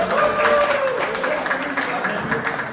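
Applause rises from the crowd at an Independence Day arm wrestling event in Faridabad, mixed with murmuring voices and a faint tonal hum, the clapping moderate and uneven over the short stretch.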